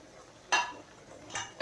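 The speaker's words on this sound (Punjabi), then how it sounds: "ਆਪਾਂ ਇਹਦੇ 'ਚ ਵੇਸਣ ਪਾਣਾ ਨਾਲ ਇਹਨਾਂ ਨੂੰ ਹਿਲਾਉਂਦੇ ਰਹਿਣਾ" A spoon stirs gram flour through melted desi ghee in a pan while making alsi pinni, giving three short scraping strokes against the metal, close and fairly quiet with soft pauses between them.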